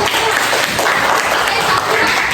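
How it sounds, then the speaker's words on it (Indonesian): An audience in a classroom teaching-practice session gives steady, dense applause, loud and continuous throughout with no pauses. "Silakan kita berikan aplaus dulu."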